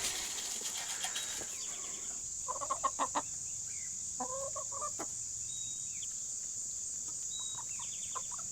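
Chickens cluck in scattered short bursts, a few close and others softer, over a constant high-pitched background whine.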